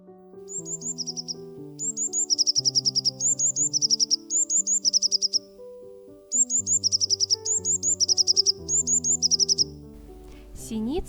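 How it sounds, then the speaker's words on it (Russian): Eurasian blue tit song in a city setting: repeated bursts of high, thin chirping notes in quick runs, clear and fairly close, over a steady low musical background. "Синица Лазаревка."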